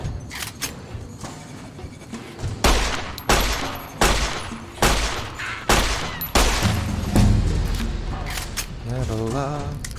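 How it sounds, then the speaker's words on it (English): Pistol gunfire in Fallout: New Vegas, a string of loud, sharp shots spaced roughly a second apart over steady background game noise, ending in a quieter, fluttering tail. "And then I shot him with my pistol."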